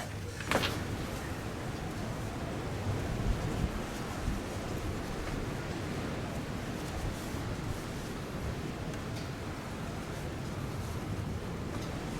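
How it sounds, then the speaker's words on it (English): Steady, loud rushing wind buffets the microphone without a break, a constant roar with no voices. "I know it's super windy."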